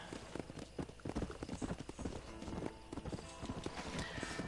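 Horse hooves clip-clop at a gallop in Red Dead Redemption, with a brief whinny, dense and steady across the clip with game music beneath.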